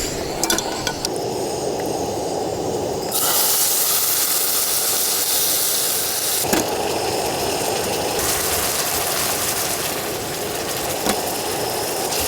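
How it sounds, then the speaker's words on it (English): Lamb sears and browns in a pan for a biryani lamb curry at a snowy winter tent campsite, a loud steady hiss and sizzle that swells sharply partway through and carries on unbroken, with no talking. "Oh man, this lamb's browning up."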